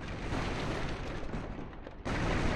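Barrels being smashed in a video game produce loud, dense crashing bursts, a sustained noisy burst that dips briefly near the end before a fresh loud impact.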